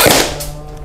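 An MP5SD fires a single suppressed shot, a sharp close crack that rings off briefly into a fading tail.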